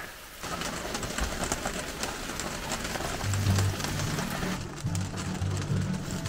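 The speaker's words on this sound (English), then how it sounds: "that's the rain streaming down the front through the front windscreen" Rain streams down the front windscreen of a motorhome in the Vendée region of France, a steady close hiss of running water that lasts the whole time with no talking.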